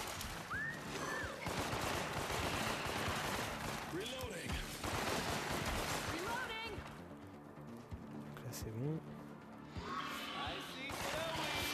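Video game gunfire in After the Fall: repeated bursts of rapid shots against zombies, loud and close, with game music and effects underneath and someone talking over it.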